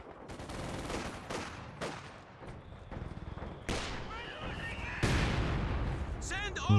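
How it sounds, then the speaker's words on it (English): Mortar counter-barrage during a competitive tournament video game match: a rapid series of sharp blasts and gunfire-like cracks, loud and close, bursting one after another with heavier impacts near the end, while a commentator talks over it. "Will be the counter barrage from the mortar pit"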